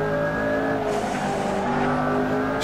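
A McLaren Senna in Assetto Corsa, driven at Spa, roars at high revs with tyres squealing, a loud sustained engine note shifting pitch as it races.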